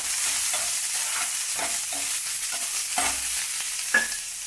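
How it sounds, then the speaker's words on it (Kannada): Onions frying in oil with garlic, mustard seeds and cumin for a ridge gourd curry, giving a steady close sizzle broken by periodic scraping strokes of a spoon and a sharp clink near the end. "ಈರುಳ್ಳಿ ಹಾಕ್ಕೊತಾ ಇದ್ದೀನಿ."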